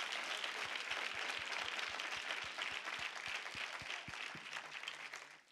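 A church congregation claps in praise, a broad, sustained patter of many hands with a steady rhythmic beat pulsing underneath, tapering off near the end.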